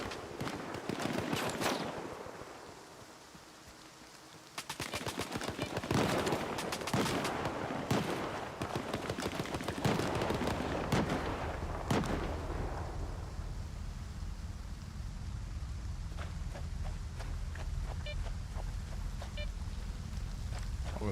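Gunfire bursts in a survival horror video game, several sharp loud shots clustered early and mid-clip over a windy, rumbling ambience, then fading to a quieter backdrop with faint clicks.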